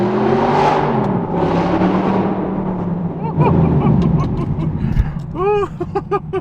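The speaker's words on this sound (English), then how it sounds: "one of my favorite aspects of this car is the sound" A car engine revs and roars loudly and close for several seconds, the pitch rising and falling, then ends in sharp pops and quick throttle blips near the finish.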